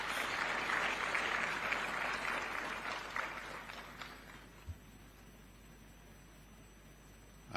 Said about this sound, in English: Let's clap for the financial services.